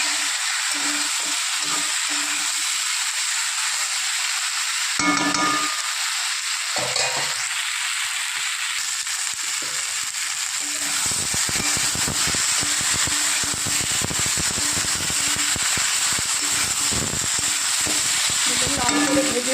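Tilapia pieces with turmeric fry in a pan with a steady bright sizzle and occasional spatula scrapes, then the stirring grows busier with dense crackle and clatter.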